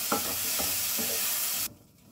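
Tomatoes with spices sizzling and frying in a pan while being stirred, steady hiss with a few soft scraping strokes, cutting off abruptly near the end.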